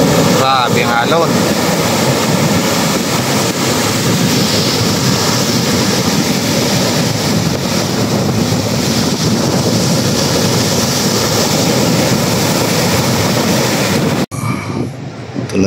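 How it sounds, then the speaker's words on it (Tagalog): Strong ocean waves roll in along a Philippine coast near a small boat, a constant, loud roar of surf and wind buffeting the microphone for the whole stretch before cutting out abruptly at the end. "Grabe ang alon."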